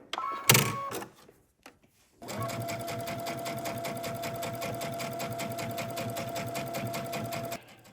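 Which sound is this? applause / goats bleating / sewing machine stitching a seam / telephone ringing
sewing machine stitching a seam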